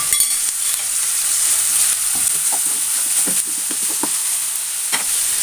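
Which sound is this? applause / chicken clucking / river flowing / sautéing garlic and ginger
sautéing garlic and ginger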